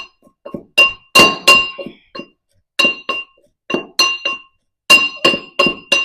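Coconut chili sambal with onion, salt and curry leaves is pounded by hand, giving loud, close, sharp knocks in irregular clusters with silent gaps between strikes.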